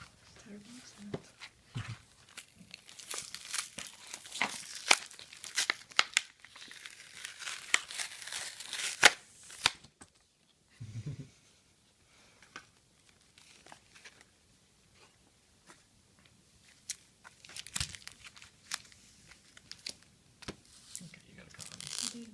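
Crinkling and tearing of Magic: The Gathering booster pack foil, close and soft with bursts of crumpling early on, then quieter sporadic handling of wrappers and cards amid whispered talk.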